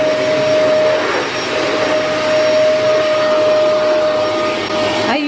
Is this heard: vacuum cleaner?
yes